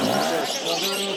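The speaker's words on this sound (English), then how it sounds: "Beautiful, beautiful doves." Caged doves and pigeons at a market in Kabul give off soft cooing and chirping calls, close by and fairly faint, over a dense bed of market noise.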